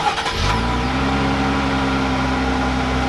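A pickup truck engine, started by remote start, cranks and catches, then settles into a steady, rumbling idle close by.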